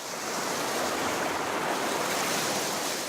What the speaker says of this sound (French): Il y a beaucoup d'eau. Le courant est violent.